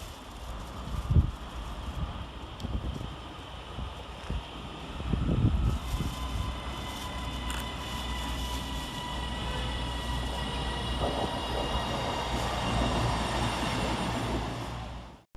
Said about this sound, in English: here comes our train in the form of 331021, working the 1021 Northern service from Crewe to Manchester Piccadilly.